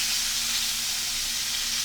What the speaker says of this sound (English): So we'll finish laying that sear on that side for about another 4 minutes.